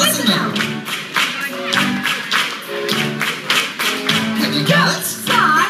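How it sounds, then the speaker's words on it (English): Hands clapping in rhythmic patterns during a children's song and clapping game, steady quick claps and taps running throughout, mixed with singing voices. "This is a song and a clapping game."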